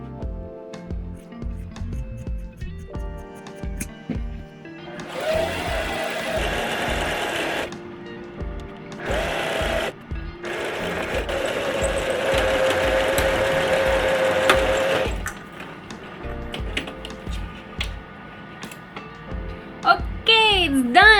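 A sewing machine hems the bottom of a thrifted garment for an autumn outfit, stitching in bursts of rapid mechanical whirring that stop and start, with music playing underneath throughout.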